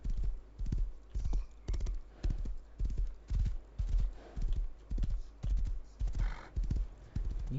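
Steady clip-clop of horse hooves in the video game Rust, a regular rhythmic trot of sharp thuds repeating about twice a second, close and clear with no talking.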